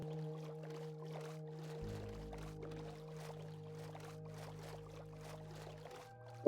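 A boat glides across water in Minecraft, giving a soft, steady trickling wash under a sustained musical drone, with no talking.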